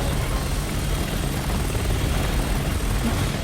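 Helicopter in the Resident Evil 6 video game, a steady, loud rotor and engine drone with low chopping throb, continuous throughout with no talk.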